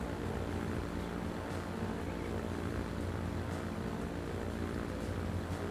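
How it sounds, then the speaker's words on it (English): Aircraft in the video game Transport Fever 2, heard as a steady droning engine hum with a broad roar that holds even and unbroken throughout. "First aircraft arrived, achievement unlocked."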